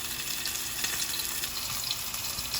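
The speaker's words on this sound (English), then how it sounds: "Time to cook the steak." A boneless ribeye steak sears in a hot pan with butter and olive oil, making a dense, steady, close hiss and crackle with no pauses or talk.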